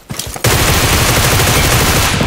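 Gunfire in the battle-royale mobile game PUBG Mobile: a brief quiet moment, then a loud, sustained, rapid burst of shots that fills the rest of the short clip with no talk.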